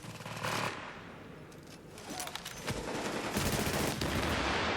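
Gunfire in the video game The Division: rapid automatic bursts and shots crackle loudly and almost without pause over dense background noise.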